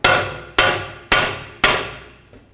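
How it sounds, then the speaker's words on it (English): Four firm hammer blows strike the front wheel hub of a 2005-10 Volkswagen Jetta, evenly spaced about half a second apart. Each is a loud, close metallic clang that rings out briefly before the next. "Now just take a hammer, give it a couple taps"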